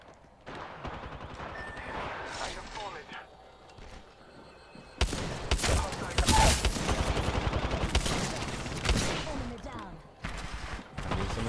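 Rapid bursts of gunfire from a shooter video game, a quieter stretch then dense overlapping volleys from about five seconds on, loud and close, with people talking over the shooting.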